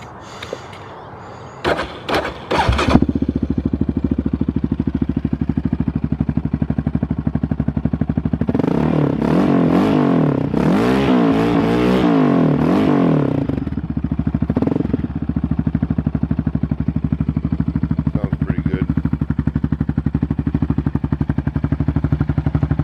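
A 2006 Yamaha Raptor 700R ATV fitted with a Dynojet Power Commander starts and settles into a loud, steady idle, with a burst of sharp throttle blips in the middle before it drops back to idle.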